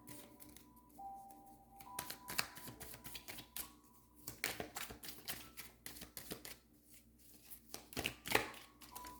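Cards being shuffled and drawn, heard alone as quiet, crisp bursts of riffling and snapping taps that recur irregularly through the whole stretch.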